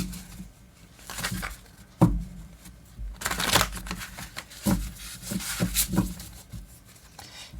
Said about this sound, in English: And I do shuffle between the readings, and I just do one last shuffle.